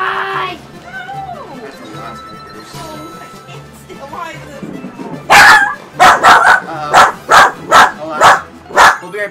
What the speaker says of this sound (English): Beans just barked at Thunder